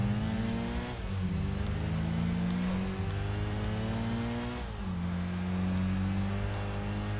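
Honda CRX engine in the Tokyo Xtreme Racer Drift 2 racing game, revving steadily with rising and falling pitch through gear changes, loud and continuous, with no talk over it.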